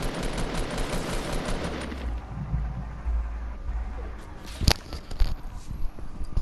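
Rapid bursts of automatic gunfire in a Fortnite match, dense at first then scattered, with one sharp loud shot standing out and wind-like noise beneath.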